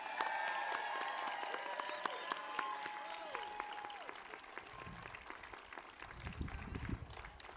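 Applause from a graduation audience at Monterey Bay Academy as the senior class of 2025 is introduced: sustained crowd clapping from a large hall, moderately distant, with scattered shuffling and a few voices underneath.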